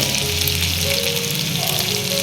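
Ginger and garlic fry loudly in hot oil for aloo chop, a dense, continuous crackling sizzle close up with faint tonal background sounds.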